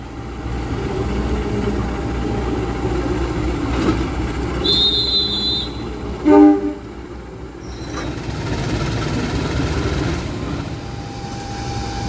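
The Majapahit Economy New Generation train hauled by locomotive CC 018314 rumbles steadily past at Purwokerto, with a brief squeal and a short loud horn-like blast midway, no talking.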